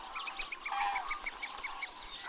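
Cranes migrating across the Pyrenees toward wintering grounds in central Spain call in a rhythmic series of bugling honks, several birds overlapping at moderate distance with no talk.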